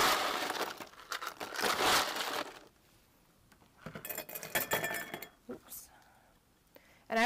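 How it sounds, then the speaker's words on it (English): Ice goes into a drinking glass while drinks are mixed, making two bursts of bright clinking and rattling, near and fairly loud, with a quiet pause between them. "So you still want to put a little bit of ice in your glass for your people."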